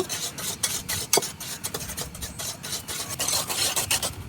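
Egg and sugar beaten together by hand in a bowl for palm cake batter, a steady rasping whisk with repeated quick strokes, fairly close and continuous without talk.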